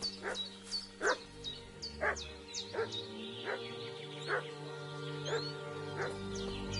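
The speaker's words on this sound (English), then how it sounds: "What's that dog making such a fuss about?" A dog in the medieval video game Kingdom Come Deliverance 2 barks repeatedly at a fairly regular pace, the sharp barks carrying from a moderate distance over a low ambient hum and faint birdsong.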